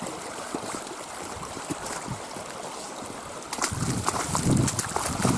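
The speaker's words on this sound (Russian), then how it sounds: "Ребята, смотрите, какие ручьи." Rainwater streams rush after a storm in a continuous watery wash, growing louder and more turbulent toward the end, with no talk.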